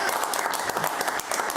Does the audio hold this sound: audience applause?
yes